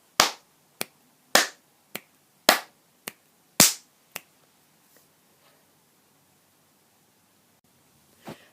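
Eight sharp percussive hits, like claps or snaps, alternating loud and soft in a steady strong-weak pattern, followed by a faint knock near the end.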